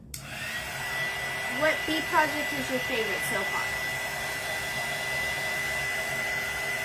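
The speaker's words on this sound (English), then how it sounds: "So here comes the dryer." A hair dryer blows in a steady, loud, continuous whoosh while a craft project, a bee honeycomb door hanger, dries; someone talks briefly over the constant hum.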